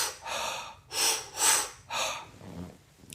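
Deep mouth breaths from holotropic breathwork: four long, loud, rhythmic airy inhale-exhale cycles, close up and alone, followed by a quieter, fading breath.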